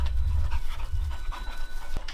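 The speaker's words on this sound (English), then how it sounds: "Oh, whose dogs are those?" Dogs panting close by in a rapid, breathy rhythm, with heavy low huffing and a few brief sniffs over about two seconds.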